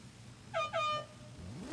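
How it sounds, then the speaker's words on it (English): Race car horn at a qualifying session, sounding two short, loud honks in quick succession against a low background rumble of engines. "Booty, honk your horn, and then you may go."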